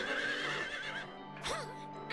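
A horse neighs in the video game Silent Hill 3, one whinny at the start followed by a second shrill, wavering whinny in the middle, fairly close over a low ambient hum.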